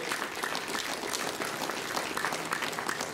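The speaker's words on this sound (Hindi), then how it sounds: "जोरदार तालियों से।" An audience applauds to honour a guest at a Rajyoga meditation talk: a continuous, even wash of many hands clapping at once, fairly soft and distant, with no break.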